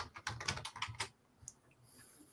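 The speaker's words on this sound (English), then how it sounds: "So forgive me typing." Quick bursts of keystrokes on a computer keyboard clatter for about a second, then a few sparse, quieter clicks follow in a hushed room with no speech.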